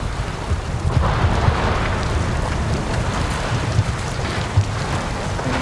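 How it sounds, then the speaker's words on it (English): A loud, continuous thunderous roar with a rain-like hiss as ice cracks off the roof of a chamber inside an iceberg, echoing in the enclosed space, with occasional heavier thuds of falling pieces. "as pieces crack off the roof and fall down, it creates this thunderous echo"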